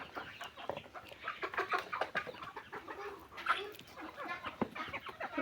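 Egyptian Fayoumi chickens cluck and call nearby in a busy, uneven stream of short squawks, with sharp taps between them and a faint dog-like sound once, and no talking.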